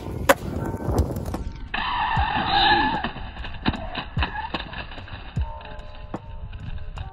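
A skateboard rolling and skidding over a pebble during a frontside and backside 180 trick, with a sustained gritty scrape in the middle amid clattering wheel knocks and board impacts, moderately loud.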